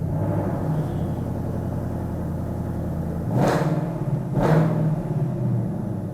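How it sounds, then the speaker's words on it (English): A white 2021 Ford Mustang GT Premium California Special with a 5-liter V8 idles with a low, steady rumble, then gives two short, sharp revs before settling back. "start it up so you can hear that 5-liter V8 come to life"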